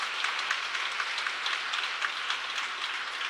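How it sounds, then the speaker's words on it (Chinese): A congregation at a Sunday church service claps to encourage the pastor couple: steady, dense applause throughout, with no talking. "再一次拍手给他们鼓励一下"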